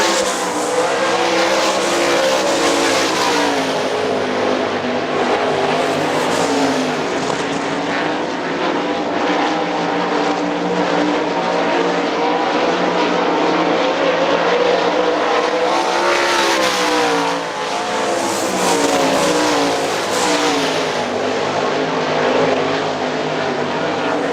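Sprint cars race at Hartford Speedway Park, their engines roaring loudly and continuously as the pack passes by, with the pitch rising and falling across the straightaways.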